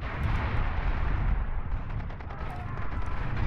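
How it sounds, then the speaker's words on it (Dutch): Heavy, rumbling explosions roll on continuously in the Far Cry 2 shooter, loud and dense with deep booming blasts and crackling debris. "Dikke explosies, brand."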